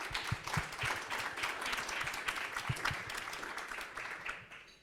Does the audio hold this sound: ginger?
no